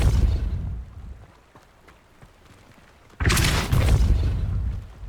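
Depulso force spell cast in Hogwarts Legacy: a loud, sudden whooshing blast bursts in after a quieter stretch of game ambience and holds strong, booming at the low end until the end.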